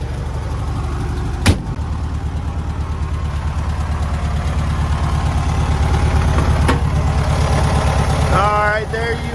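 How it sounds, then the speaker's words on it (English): A 1970 Volkswagen Beetle 1600cc single-port engine idles close by with a steady, loping air-cooled chug, punctuated by a couple of sharp clicks and someone talking briefly near the end. "There is your 1600cc single port engine."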